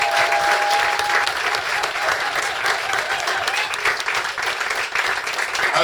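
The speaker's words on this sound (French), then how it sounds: "je demande d'applaudir pour lui" Steady audience applause at a ceremony installing new members, dense continuous clapping throughout, loud and sustained without letting up.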